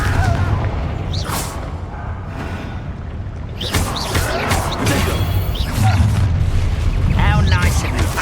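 Explosions from the Bombarda blasting spell in Hogwarts Legacy, several heavy booms and crashing impacts rolling through a noisy combat scene, with a voice calling out over the clamour.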